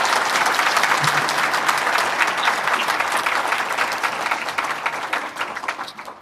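A church congregation greets newly arrived ministers with loud, sustained applause, many hands clapping densely and evenly before the sound slowly thins out toward the end.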